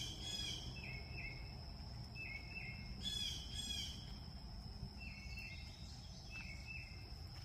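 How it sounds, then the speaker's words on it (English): Birds chirp and whistle in repeated short phrases over a steady insect drone, fairly close in a quiet late-May garden. "We have so many birds, as you can hear"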